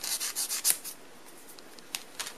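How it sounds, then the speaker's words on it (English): Medium grit sanding stick rubbed lightly over a rough spot on a plastic tank model part, a few quick soft scratchy strokes up close, then fainter occasional scrapes. "I'm going to take a medium grit standing stick, and I just want to hit that ever so slightly"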